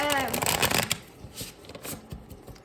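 A huge deck of cards is shuffled by hand, with a rapid riffling burst at first, then softer scattered shuffles and taps; a voice is briefly heard at the start.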